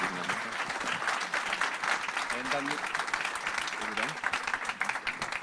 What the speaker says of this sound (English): a big applause from all of you